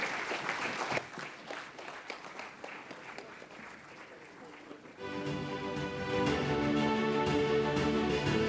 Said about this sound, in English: with a huge round of applause, may I have the pleasure to invite our sports icon